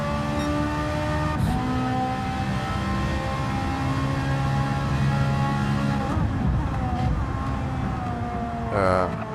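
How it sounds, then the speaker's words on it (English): A high-pitched short-stroke Ferrari V8 engine in a racing video game whines steadily, its pitch shifting as it revs and changes gear, with a brief quieter gap before it picks up again. "the signature Ferrari sounds coming in"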